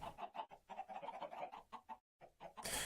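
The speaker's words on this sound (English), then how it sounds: "I have quite a few chickens because of my auto feeder." Chickens in the Minecraft modpack Modern Skyblock 3 cluck in quick, choppy bursts, several birds overlapping near and moderately loud, broken by a brief silent gap and ending in a burst of noise.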